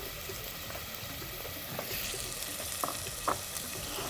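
Freekeh sizzles and fries in a pan while being stirred, a steady crackling hiss with a few sharp scraping knocks from the utensil near the end, close and moderately quiet, with no talking.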